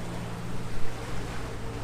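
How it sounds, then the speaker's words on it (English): Rough sea with waves washing over a sailboat gives a dense, steady roar of water and wind, one heavier surge near the middle, close and loud. "there are waves crashing over the boat"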